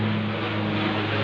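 Propeller airplane passing overhead, hidden above a fully overcast, rainy sky: a steady, continuous low drone with a hum that holds unchanged through the brief stretch, with no voices.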